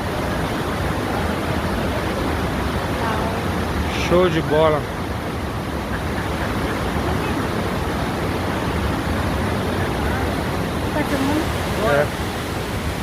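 Cachoeira dos Pretos waterfall roars as a steady, broadband rush of falling water that fills the scene at close range, with a few brief voices speaking over it.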